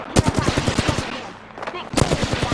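Rapid automatic gunfire in Apex Legends, loud and close, in two dense bursts of quick shots separated by a short lull.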